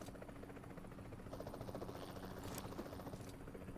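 In PUBG Mobile's helicopter payload mode, an enemy helicopter's rotor chops faintly and continuously in the game audio, a soft rhythmic buzz with no speech.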